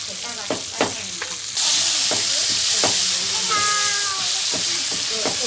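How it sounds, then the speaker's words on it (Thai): Mala seasoning stir-fried in a pan, with a loud, steady sizzle that starts abruptly partway through, while someone talks over the cooking and a cat meows at intervals. "เราก็ผัดเครื่องปรุงนะคะ เครื่องปรุงหมาล่านะคะ"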